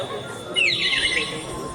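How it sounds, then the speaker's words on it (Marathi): A brief burst of high, bright bird chirps rises over a low rumbling background, lasting under a second before fading. "पक्ष्यांचा आवाज"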